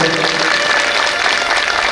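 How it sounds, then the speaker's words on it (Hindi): Sustained applause from the audience at a Shrimad Bhagavat Katha religious discourse, a dense wash of many hands clapping at steady loudness throughout, with no clear talk over it. "इन सबके भी जोरदार तालियां बजाकर स्वागत करें।"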